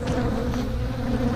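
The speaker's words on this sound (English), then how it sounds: "those bees are right back in my face" Honey bees buzzing around an open hive, a dense close swarm hum that stays loud and steady, as if the bees are right at the listener's face.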